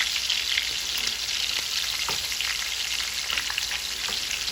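Pork neck bones sizzle and crackle steadily in a hot frying pan as they are turned, with a few clinks and scrapes of a utensil against the pan over the constant close frying hiss.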